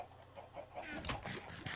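Chickens in the Minecraft video game give a few short, quiet clucks in quick succession, faint and close, with no talking over them.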